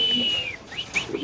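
Caged pigeons at a busy pigeon market give soft whistling coos and chirps, a few short calls in quick succession, moderately close with light background noise.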